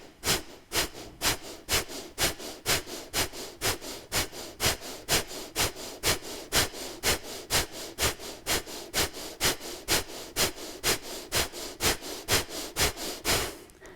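Rapid, forceful Kapalbhati breathing: a long, even run of sharp, close nasal exhalations, about two per second, each a short breathy puff, continuing steadily with no talk.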